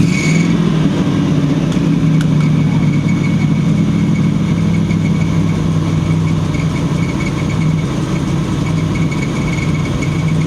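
A 1979 GMC C35 camper truck's engine runs steadily with the gas pedal held slightly down, a loud, continuous low rumble and drone lasting throughout without any talk.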